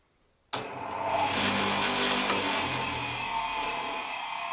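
An Odwerk BEF electric tile cutter motor switches on abruptly after a moment of quiet, then runs with a steady, loud, close whine and hum that holds at an even level without voices.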